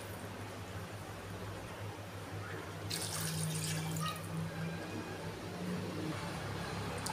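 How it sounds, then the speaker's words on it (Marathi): Two glasses of water poured into a pot of mutton curry, a close splashing pour rising midway over a steady background hum. "याच्यात आपण दोन ग्लास पाणी टाकणार आहे"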